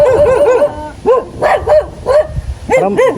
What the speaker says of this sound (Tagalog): Oo, may aso.